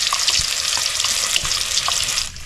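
Ginger, onion and garlic paste frying in a kadai, a steady loud sizzle with occasional stirring clicks, no voices.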